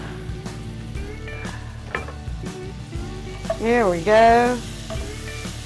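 Onions sautéing in melted butter in a pan hiss and sizzle steadily up close, while someone speaks briefly over the cooking noise.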